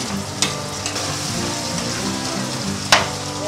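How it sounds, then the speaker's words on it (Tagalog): Onions sauté in a hot pan for beef mechado, a loud continuous sizzle and crackle heard close up, with two sharp clinks from stirring. "igisa yung sibuyas natin."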